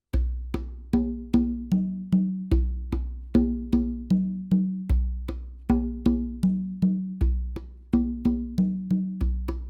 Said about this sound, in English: I just have to play 2 open tones on the low drum